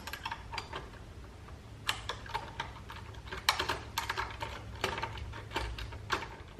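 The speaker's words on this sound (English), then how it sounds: "now with using the supplied Allen keys, I'm just loosening this up" Allen key loosening Allen head screws on a motorcycle fender eliminator bracket, sounding as a string of sharp metallic clicks and ratcheting ticks, close and irregular, with no talking.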